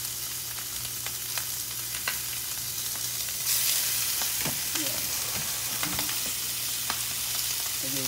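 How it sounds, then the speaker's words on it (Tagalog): Bacon sizzles steadily in a frying pan as it renders its fat for breakfast, with a continuous close crackle and occasional scrapes and clicks of stirring. "let's start with bacon para magmantika yung kawali"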